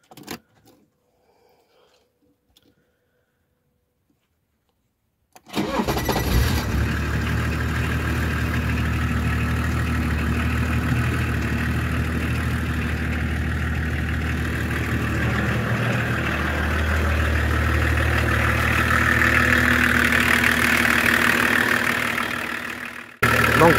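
A BMW E36 325 TDS with the M51 diesel engine, silent at first, then cranking and starting into a steady, loud diesel idle with a low knocking rumble that holds for nearly twenty seconds before cutting off.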